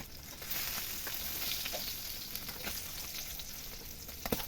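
Fish frying in a pan at breakfast cooking, a steady close hiss of hot oil running throughout, with a few sharper crackles and a brief clatter near the end as the fish is turned; no voices.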